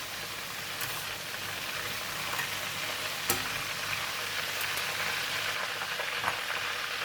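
Squid deep-frying in hot oil in a pan gives a steady, even sizzle throughout, with a few sharp pops and crackles standing out now and then.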